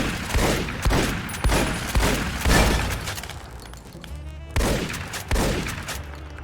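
Rapid bursts of turret gunfire in Fallout: New Vegas, loud repeated volleys with sharp impacts and booming echoes, several clusters over a few seconds with brief lulls between.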